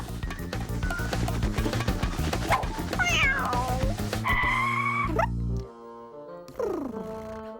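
A cartoon cat meows and yowls loudly, with rising and falling wails and strained cries over busy animated music and effects, ending in a long drawn-out howl.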